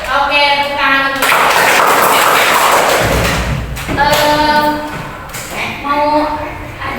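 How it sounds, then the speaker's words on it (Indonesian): A classroom of children claps hands together during a coaching lesson, a burst of loud, dense clapping in the middle set between stretches of close children's voices and chanting. "Oke, tepuk tangan dulu."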